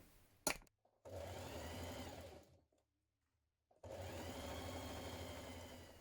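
A sewing machine stitches a dress bodice seam with a 1/2 inch allowance, running in two steady motor bursts separated by a short pause, close and loud with no talking.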